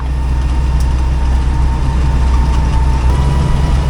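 A new engine runs steadily in a 1956 Willys CJ5 jeep while it is driven. There is a loud, continuous low rumble and drone at a constant RPM, with no voices.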